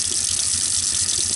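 Tap water gushes in a strong steady stream while an RV fresh water system is flushed during sanitizing, a loud continuous hiss close by with a faint low pulsing hum beneath, with no talking.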